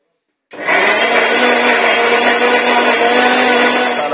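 A mixer grinder grinding masala with curry leaves and salt for a sardine fry, starting abruptly and running as a steady, loud, close whir with a rough rattling texture until the end, with no talk.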